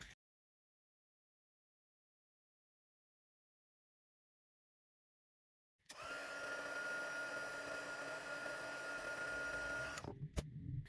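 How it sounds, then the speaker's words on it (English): A heat tool melts gold embossing powder on a stamped "Joy" sentiment on Evening Evergreen cardstock. Near-silence gives way to a steady, close blower whir with a faint whine that runs about four seconds, then cuts off. "I'm just going to heat emboss that Joy in gold embossing powder on it"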